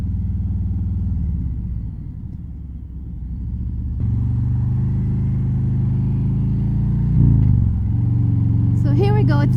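A motorcycle engine idling close by and then revving as the rider sets off, a steady loud rumble that rises in pitch, with a voice briefly audible near the end.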